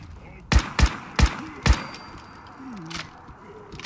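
Gunfire in Fallout 4: four sharp, loud shots in quick succession, followed by fainter game sounds and whooshing effects.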